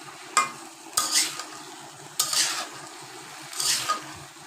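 Spices being stirred into a potato, eggplant and taro curry in a pan, with four brief scraping strokes of a spoon over a faint sizzle, close and moderately quiet.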